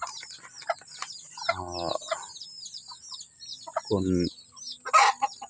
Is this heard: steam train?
no